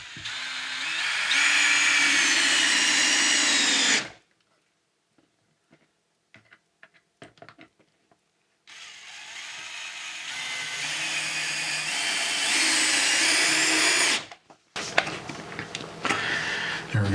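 A power drill drives screws into fireplace wood in two long, loud whirring bursts, separated by quiet handling clicks and taps, followed by a short final burst.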